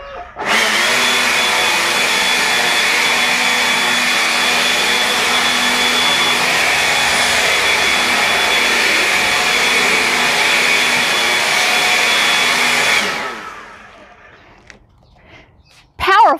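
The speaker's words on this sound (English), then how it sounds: "It blows 100 miles per hour and it has airflow of 280 cubic feet per minute." A Ryobi 18V One+ cordless leaf blower runs with a loud, steady high-pitched roar and whine for about twelve seconds, then winds down and stops, and a voice follows briefly.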